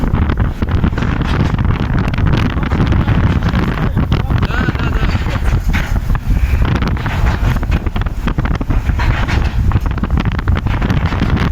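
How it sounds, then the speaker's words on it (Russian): Strong wind buffeting a microphone outdoors on the way to a mine, a loud, unbroken roar that rumbles and swells throughout. "Ветер."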